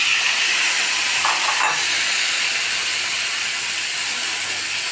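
Shrimp dropped into melted butter with garlic, a steady close hiss and sizzle running throughout, with a brief splash of added sizzle near the start, no voices.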